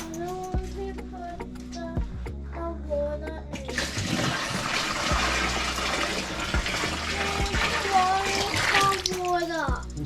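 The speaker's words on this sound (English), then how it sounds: "Alright, we've filled up a bucket of hot water." Hot water poured from a bucket into a tub while camping at Corryong, a loud gushing splash starting partway in and running steadily to the end, with talking throughout.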